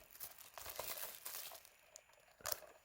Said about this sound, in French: Je vais donc déballer